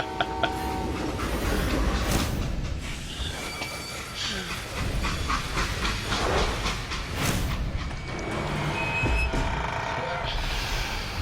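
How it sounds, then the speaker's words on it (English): A freight train rolling along the rails, with a loud rumbling clatter of wagons and bursts of metallic squeal, while people talk over it. "How'd they stop this train in the first place?"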